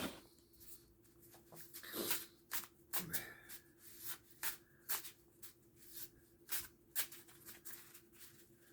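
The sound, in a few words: shuffling a deck of tarot cards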